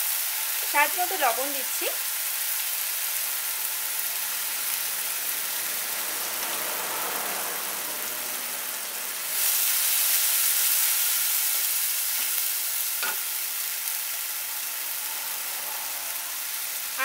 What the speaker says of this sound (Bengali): এখন এই মশলাটাকে একটু 1 থেকে 2 মিনিট আমি একটু কষিয়ে নিচ্ছি।